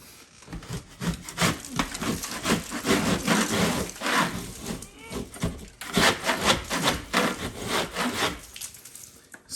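A firm scraper rasps popcorn texture off a ceiling in repeated rough back-and-forth strokes, close and fairly loud, with a short pause midway.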